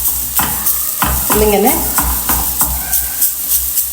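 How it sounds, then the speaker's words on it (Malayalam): Chicken varavu ingredients sautéed and stirred in a pan until golden brown, with coconut roasting on low heat: a steady sizzle and fry under repeated scraping stirs, close and fairly loud, with a brief spoken word. "ഇത് നല്ല ഗോൾഡൻ ബ്രൗൺ കളറാകുന്നത് വരെ വഴറ്റിയെടുക്കണം."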